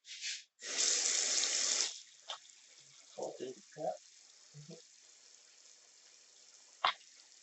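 A tap runs in a steady rushing gush for about a second, then shuts off, followed by scattered clinks and small handling noises nearby.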